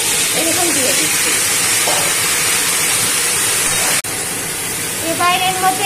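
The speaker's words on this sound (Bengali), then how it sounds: "এবার এর মধ্যে আমি ঝিঙে, লাল শাকের ডাঁটা আর আলু করে এরকম দিয়ে দিচ্ছি" Ridge gourd, red amaranth stems and potato pieces hitting hot oil with fried cumin and turmeric, giving a loud, continuous sizzle and hiss that drops briefly and then carries on, with a few faint clinks near the end.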